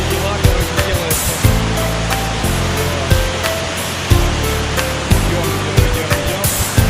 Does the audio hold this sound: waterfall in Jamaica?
yes